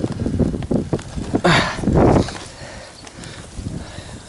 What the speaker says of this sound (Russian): Ветер сегодня просто капец.